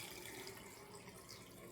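Pickling lime solution pours from a container into a container of eggs, a soft continuous splashing trickle heard faintly and alone.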